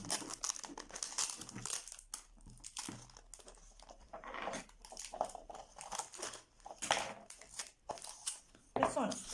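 Scissors snip and crinkle through paper during a cup craft project, giving close, quiet, irregular cuts and rustles. A voice speaks softly at times.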